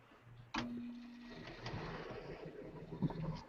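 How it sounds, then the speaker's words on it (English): A furnace inducer motor starts abruptly and runs with a steady mechanical hum and whir, a brief clunk partway through, no speech. "inducer motor"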